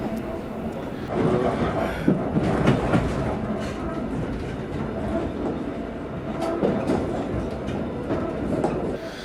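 Train running on rails between Bydgoszcz and Piła in Poland, heard from inside the driver's cab: a steady loud rumble with rhythmic clickety-clack of wheels over rail joints throughout, approaching a station.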